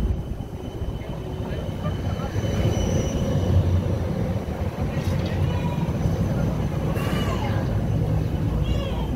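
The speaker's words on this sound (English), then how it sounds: "Maybe this is the main railway station." A steady rumble of a train at Bern's main railway station, with rolling wheel noise and faint squeals, and some distant voices in the background.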